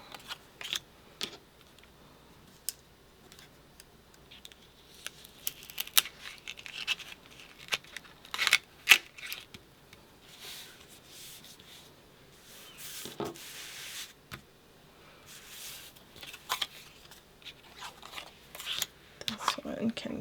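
Scissors cutting material for a Halloween mummy craft, scattered snips and papery rustles close by, intermittent and fairly soft, with talking throughout.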